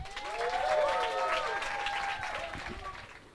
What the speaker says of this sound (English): give the warm applause for Khun.